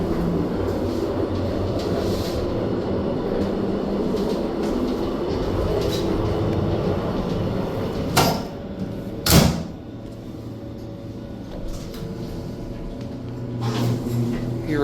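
A worn-out Montgomery hydraulic elevator motor at a Dillard's department store runs with a steady, rumbling drone throughout, broken by a couple of brief clunks partway through.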